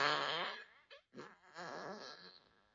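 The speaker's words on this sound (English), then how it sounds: "Here comes a squeaky fart." An Amazon Echo Dot plays a squeaky fart sound effect: a tight, high-pitched, wavering squeal that breaks off briefly, then resumes as a longer warbling squeak that fades out, with no one speaking.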